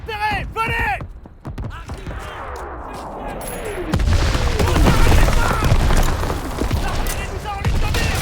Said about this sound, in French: L'artillerie nous a en ligne de mire.